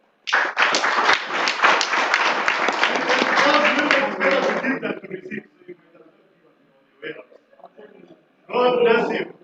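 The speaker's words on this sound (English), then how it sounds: "Ladies and gentlemen, a round of applause." Applause from a breakfast-event audience at the Nairobi Serena Hotel, a dense burst of clapping for nearly five seconds that fades, followed by scattered sounds and a brief return of clapping near the end, with voices speaking over parts of it.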